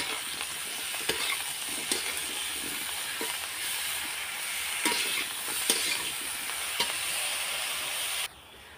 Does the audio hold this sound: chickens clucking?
no